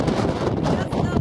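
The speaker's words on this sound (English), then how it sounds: "It is windy." Gusting wind on the bridge of the Chi-Cheemaun ferry buffets the microphone in a brief, rough rumble, loud and close.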